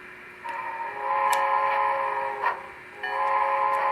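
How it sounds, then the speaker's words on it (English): A model train, Great Northern type, rolls forward while a boxcar uncouples, giving a steady mechanical hum with layered tonal whine and brief clicks and clanks near the start and middle, loud and close with no voices. "and as the train moves forward,"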